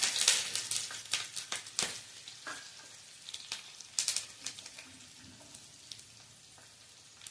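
Curry leaves and chopped green chillies crackling in hot oil in a pan: close, dense sizzling with sharp spitting pops, loudest at the start and settling into a softer steady fry.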